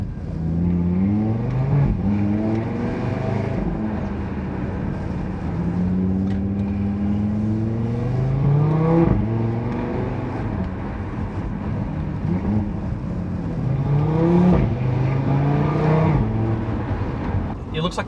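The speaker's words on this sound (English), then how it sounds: "the engine sound in dynamic, it's very loud all the time." A loud car engine revs repeatedly, rising and falling in pitch through several surges, with a deep throaty drone throughout.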